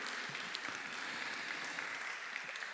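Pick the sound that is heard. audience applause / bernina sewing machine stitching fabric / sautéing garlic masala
audience applause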